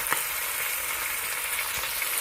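An egg sizzles in hot oil in a wok with crabs, ginger and scallion, a steady loud hiss of frying that runs throughout, with a few faint clicks and a sharp knock at the end.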